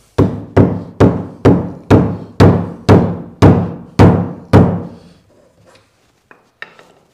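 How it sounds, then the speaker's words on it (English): A flooring hammer taps something into a wooden 4x4 with nine evenly spaced, sharp, loud blows, then a few faint knocks and rustles after the hammering stops. "Then I can just tap it in there with my favorite flooring hammer."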